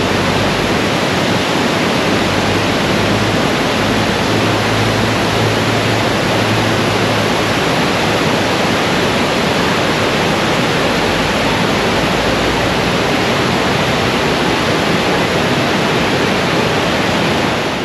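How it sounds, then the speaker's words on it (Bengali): A large waterfall near Little Adam's Peak in Sri Lanka roars in a loud, unbroken wash of rushing water that stays steady and close throughout, with no other sounds. "দেখেন না ঝর্ণাটা কত বড়।"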